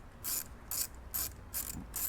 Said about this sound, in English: Using a 10mm socket, I'm going to attach